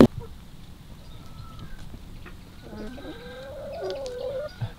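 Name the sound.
chickens and roosters clucking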